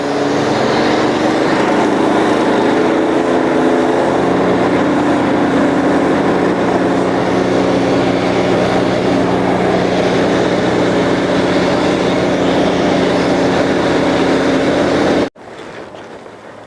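A cold water jetter's engine runs steadily and loud while it blasts out a 12-inch pipe, a constant droning hum with no revving, cutting off abruptly near the end to a quieter background.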